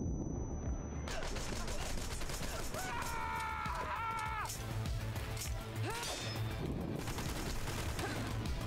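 Gunfire in the Wanted: Dead video game: a dense fusillade of rapid shots and crashing impacts running nearly the whole time after a short quiet opening, loud and busy, with a voice speaking now and then over it.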